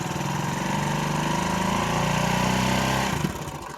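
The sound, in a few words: vehicle engine running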